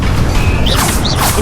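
The Incendio fire spell cast in Hogwarts Legacy bursts out as a loud, dense whooshing roar with a crackling, mechanical impact, lasting about a second and a half with no voices.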